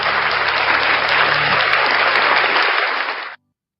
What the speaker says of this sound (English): Round of applause for NCR News Network.